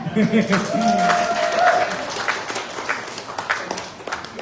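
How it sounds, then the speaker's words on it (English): A small audience claps after a question-and-answer exchange at a talk on a continuous microwave pyrolysis reactor. The clapping is scattered and moderately close, busiest in the first two seconds, then thinning to sparse claps, with a voice briefly present. "Oh, you guys wanted to clap. You can."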